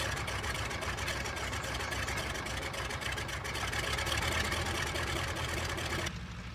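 A biplane's piston engine warms up on the ground, a steady, dense idle rumble holding evenly for about six seconds before dropping to a quieter hum at the very end.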